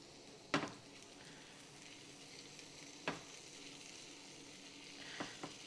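Pernil sandwich filling cooking down in a pan, a soft, faint steady sizzle broken by a few sharp clanks of a utensil against the pan.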